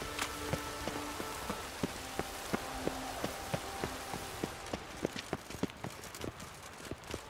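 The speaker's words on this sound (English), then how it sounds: "It's raining. Of course it's going to be damp." Rain in The Witcher 3 falls as a steady soft hiss with scattered sharp droplet ticks and taps, fairly quiet and continuous, with no talk over it.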